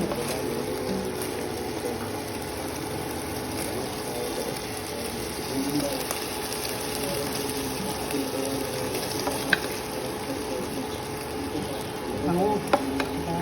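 Garlic sizzles in a hot pan in a home kitchen, a steady crackling hiss throughout with occasional stirring clinks and quiet background voices.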